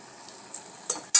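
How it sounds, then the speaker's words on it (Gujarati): Maggi noodles being stirred with masala in a pan, soft scraping and a few short utensil clinks against the metal, ending in a sharp clink. "અને એને મસાલાને સારી રીતે મિક્સ કરી લઈએ"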